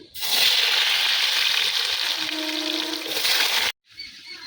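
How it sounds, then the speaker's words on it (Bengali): Close, loud sizzle of potatoes frying in fish-roe oil for several seconds, then an abrupt cut to quieter background. "মাছের ডিমের তেলে আমি আলুটা ভেজে নেব"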